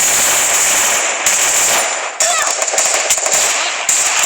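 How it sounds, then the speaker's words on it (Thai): Rapid automatic gunfire in a first-person shooter video game, loud and close, with sustained bursts and a few brief gaps between volleys, no talking over it. "ขอโทษ ปืนมันลั่น"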